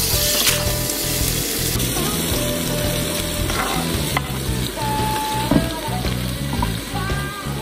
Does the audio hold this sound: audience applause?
no